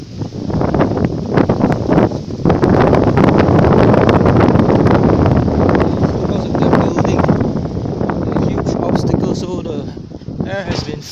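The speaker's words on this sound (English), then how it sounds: "wind is very strong here." Strong gusting wind battering the microphone outdoors near a mall in Ipoh, Malaysia, a loud continuous roar that swells and dips throughout.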